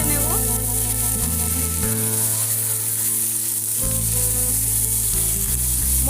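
Ground spices and ginger paste fry loudly and continuously in a pan. The sizzle is strong and steady, with a faint stirring texture and no voices.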